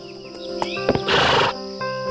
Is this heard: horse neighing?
yes